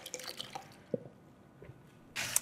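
A small splash of water poured into a cream container to rinse it in a home kitchen, with soft drips and a brief trickle at close range, quiet throughout.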